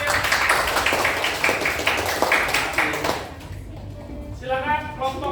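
Students clapping in a classroom after a group presentation, a few seconds of close, uneven handclaps with sharp individual slaps, fading out as a voice begins speaking near the end.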